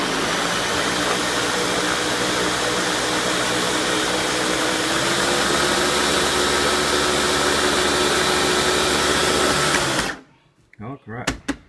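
A Nutri Ninja blender runs on its puree setting, a loud, steady motor whir with a churning roar that holds for about ten seconds, then cuts off abruptly, leaving a few brief clatters and rustles.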